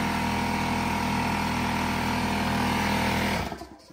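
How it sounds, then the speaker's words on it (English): An air compressor runs during can crushing with a can crusher, a steady, loud, close motor drone with a constant hum that holds for a few seconds before cutting off near the end. "There goes my air compressor."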